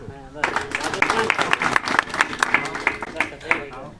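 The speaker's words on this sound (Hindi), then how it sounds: "इस बाप साहब के लिए पहले एक जोरदार तालियां" Clapping from a crowd at an OBC street rally in Uttar Pradesh, a burst of individual claps, fairly close, with a voice speaking over it.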